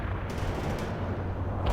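Sustained gunfire from a Bradley fighting vehicle in the World in Conflict video game battle, a dense continuous rattle of shots with heavy low rumble and a few sharper bursts standing out.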